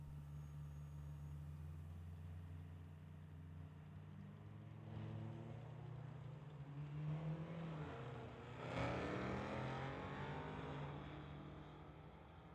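Drag race cars, one of them a Mustang, at a Sportsman class final, heard as a distant engine drone that swells and roars past midway and again near the end, faint and far off.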